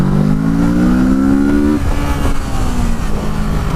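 A 2017 Kawasaki Z650 motorcycle engine with Euro 4 exhaust revs hard at full throttle in second gear, pitch climbing steadily, then briefly drops as it shifts and keeps roaring.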